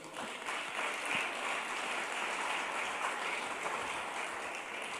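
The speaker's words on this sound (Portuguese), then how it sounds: "Você pode dar um aplauso ao Senhor Jesus?" A church congregation applauds during a sermon, a faint, even wash of clapping that keeps going for the whole stretch with no voices over it.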